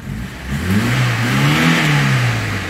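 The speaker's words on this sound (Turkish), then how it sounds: "motor sesini de duyuyorsunuz" A Tofaş car engine, started via an added start-stop button, hums close by, rising briefly in a smooth rev before settling into a steady idle, with no other sounds around it.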